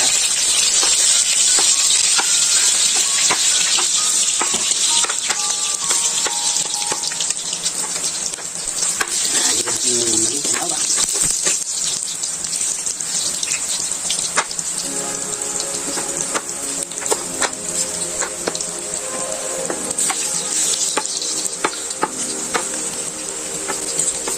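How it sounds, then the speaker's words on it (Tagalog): Garlic fries in hot cooking oil, a loud steady crackling sizzle with spattering pops and occasional stirring scrapes, continuing throughout without talk. "mainit na po yung ating mantika. Lagay po muna natin yung bawang."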